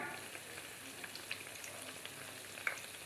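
Steady crackling sizzle of plantain frying in hot oil, with scattered sharper pops over a constant hiss, fairly quiet and uninterrupted.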